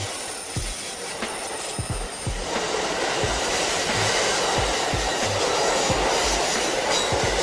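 A diesel train runs along the track with a constant rumbling hiss. Rhythmic clicks of the wheels over rail joints come through clearly, and no one speaks.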